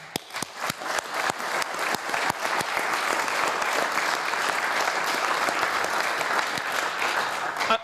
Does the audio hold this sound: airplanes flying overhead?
no